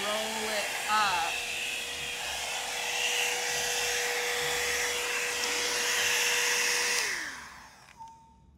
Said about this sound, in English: the iconic hot air styler